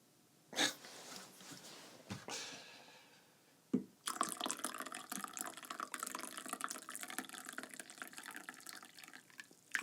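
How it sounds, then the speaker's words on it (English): Coffee poured from a thermos, a few short splashes and gurgles followed by a steady, close pouring stream that runs to the end. "When you pour coffee, it seems like you're pouring so much into a thermos."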